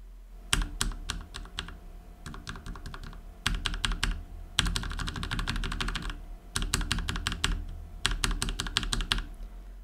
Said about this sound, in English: And this is how lubed black switches sound like.